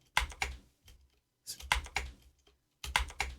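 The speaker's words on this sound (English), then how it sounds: "when I am pressing spacebar to play the recorded audio, which I have just recorded, you will get the keyboard noise." Computer keyboard typing from a played-back recording, bursts of clustered keystrokes in three separate groups with short quiet gaps between, close and fairly faint with no voices.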